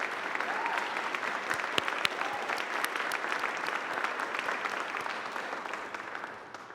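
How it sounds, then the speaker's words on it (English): A steady round of applause from an audience at a Justice Department anniversary event, moderately loud and continuous with a few sharper individual claps, tapering slightly at the end. "I think you deserve your own round of applause"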